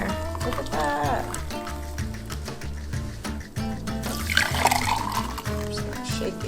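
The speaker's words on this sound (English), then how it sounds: "And then I'm just gonna go ahead and pour it in there." Coffee slushee, a dairy-free vanilla frappuccino-style drink, pours from a to-go container into a glass with a trickling, gurgling liquid sound, heard over steady rhythmic background music.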